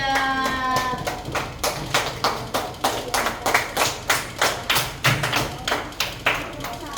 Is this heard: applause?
yes